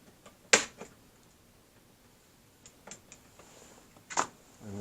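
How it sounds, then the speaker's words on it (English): An automatic center punch snaps against a car door lock cylinder, giving a few sharp metallic clicks spaced apart, close and crisp against near silence. "This is just a center punch. It's just an automatic punch."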